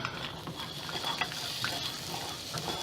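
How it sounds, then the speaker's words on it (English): Nuts dusted with garlic powder, smoke and seasoning being stirred in a bowl, giving a soft continuous rustling and clicking scrape with faint gritty crackles, close and low in level. "we're just going to stir these around a little bit"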